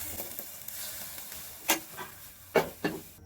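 Pitha cooking in a very hot wok wiped with mustard oil gives a soft, steady sizzle, broken by a few sharp crackles and pops near the end.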